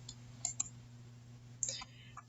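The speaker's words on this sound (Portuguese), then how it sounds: "a gente clica em editar tipo" A few sharp, faint mouse clicks in Revit, isolated taps spaced apart over a low steady hum.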